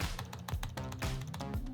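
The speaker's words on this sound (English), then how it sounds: "Let me go ahead and do a little keyboard test for you guys and let you guys hear what it sounds like." Typing on a Gateway ultra slim notebook's chiclet-style keyboard, a quick run of soft, close key taps at a steady pace, with no voices.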